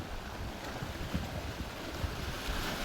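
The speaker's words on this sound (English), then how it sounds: "The waves rise and fall against the rocks below, each one arriving in its own time before gently slipping away" Ocean waves wash against rocks below in a steady, continuous rush of surf with wind noise, no voices present.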